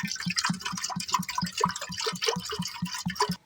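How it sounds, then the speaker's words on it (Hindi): Water is scooped or poured into a cooking pot in a home kitchen, giving a quick rhythmic run of splashes and drips for about three seconds before it stops abruptly. "हम यहाँ से पानी लेते हैं।"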